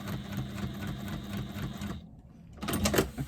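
A sewing machine stitches across the top of a fabric bag, running in a fast steady buzz, stopping briefly, then starting again at close range.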